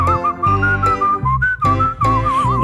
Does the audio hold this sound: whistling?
yes